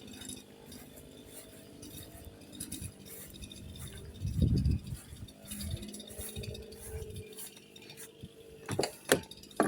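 Screwdrivers and small hand tools clatter as they are put away after tuning a new CS-4910 chainsaw, with scattered metallic clinks and rattles, a louder jangle in the middle and sharper clanks toward the end.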